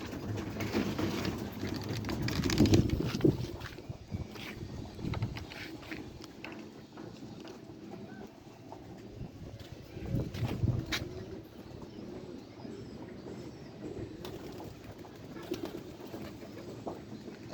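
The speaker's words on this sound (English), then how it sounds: "Outside pigeons." Outdoor pigeons on a rooftop beside a white pigeon loft cooing low and repeatedly, with soft bursts of rustling and patter between the calls.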